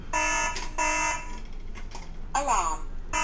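A Hikvision AX Pro alarm system sounds after a door is opened while armed, giving repeated loud electronic tonal alarm bursts with short gaps between them, close by, as someone talks over it.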